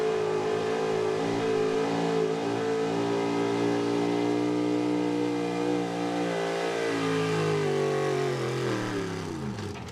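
A high-output gas 4x4 pulling truck engine revs hard and sustained through a competition pull, a loud, steady roar with rising and falling harmonics that drops off slightly near the end.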